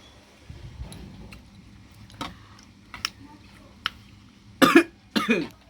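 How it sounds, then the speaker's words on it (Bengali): Two sharp coughs close together near the end, after a few faint clicks and taps in an otherwise quiet room. "কাশি ওঠে"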